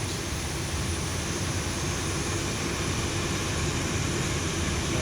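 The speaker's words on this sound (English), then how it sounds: "It's a very quick start for this aircraft." Boeing 737-800 jet engine in X-Plane 11, running at a steady broadband roar with a constant high whine, loud and unbroken throughout with no voices.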